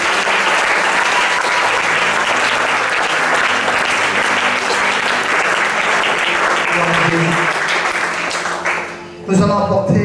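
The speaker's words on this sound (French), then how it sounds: "Acclame très fort le Seigneur" A church congregation applauds loudly and continuously for about nine seconds, a dense crowd clapping that ends with a short drop, then a burst of voices or cheering at the close.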